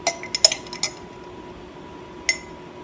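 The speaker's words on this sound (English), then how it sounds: "I'm going to add 3 tablespoons of freshly squeezed lemon juice" A metal tablespoon clinks against a bowl while lemon juice is measured into Greek yogurt, a few bright, sharp taps close together, then a pause and one more clink, over a quiet kitchen.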